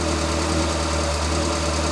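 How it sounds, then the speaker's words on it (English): A Morris Minor's engine idles steadily and close by after restoration, a continuous low mechanical hum with a faint knocking pulse running evenly through the whole stretch, with no voices over it. "I need to get the idle set so that it's much lower than it currently is"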